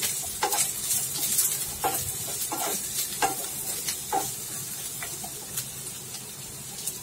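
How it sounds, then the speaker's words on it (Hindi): Two large onions fry in hot oil for a prawn gravy, a soft, even sizzle with occasional scraping stirs and light spatter, fairly close and with no talk. "तेल गरम हो चुका है, इसमें अब हम प्याज डाल रहे हैं।"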